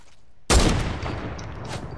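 A single sharp, loud gunshot in Fortnite rings out close by, followed by a rumbling echo and faint rattling debris that gradually fade.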